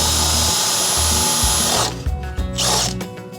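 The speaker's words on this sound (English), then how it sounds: "Brenny's just about to drill through the front bolt hole" A power drill bores through a front bolt hole in fibreglass on a boat, a loud close whine that runs steadily, stops briefly, then bursts again before trailing off.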